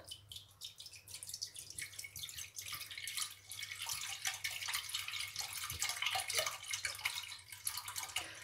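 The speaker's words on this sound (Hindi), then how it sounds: "पहले से हम डालेंगे इसमें 1 लीटर दूध" One litre of milk is poured into a pan in a home kitchen while a bread custard cake is being made, a faint, steady trickling and splashing stream that continues throughout.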